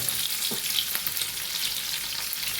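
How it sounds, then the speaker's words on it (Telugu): Onions, green chillies, garam masala, cinnamon and cloves fry in oil for an egg green masala curry, crackling in a continuous sizzle with occasional stirring scrapes and no voices. "ఉల్లిపాయలు, అవి వేసి బాగా ఫ్రై చేసుకోవాలండి, కొంచెం బ్రౌనిష్ కలర్ వచ్చేంత వరకు."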